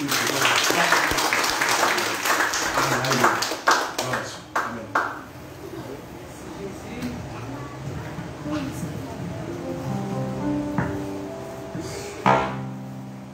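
A church congregation applauds during worship, dense clapping filling the first few seconds and then thinning, with a voice calling out and music entering near the end.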